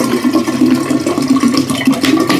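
Water from two bottles poured into a batch of corn bourbon to dilute it, a steady close gurgling splash and trickle running continuously without talk.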